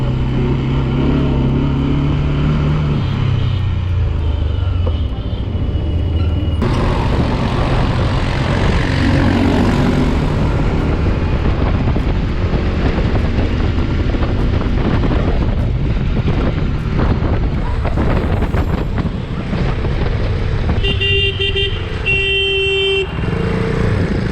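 A motorcycle engine drones while heavy wind buffets a GoPro Hero 7 Black's built-in microphone, a constant roaring rush with the engine pitch shifting as it rides along.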